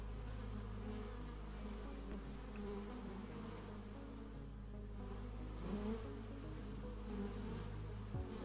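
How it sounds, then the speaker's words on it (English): A steady, droning buzz of bees fills the background of the video game Final Profit: A Shop RPG, continuous and fairly faint for the whole stretch, with no voices over it. "I don't think I'm ever gonna find the bees."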